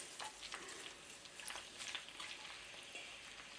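Tomatoes fry with crispy garlic in a pan, a steady close sizzle with small popping crackles throughout, no voices.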